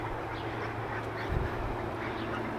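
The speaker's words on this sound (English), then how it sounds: "Do you fuckers quack yet?" Large domestic ducks give a short, low quack or two at close range over a steady outdoor background hum, with no talking.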